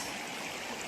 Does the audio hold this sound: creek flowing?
yes